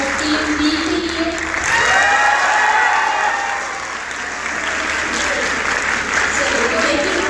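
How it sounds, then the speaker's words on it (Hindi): Steady applause from an audience at a university debate grand final in Lahore, filling the hall with dense, continuous clapping and light crowd murmur for a competing team. "और टीम बी के लिए।"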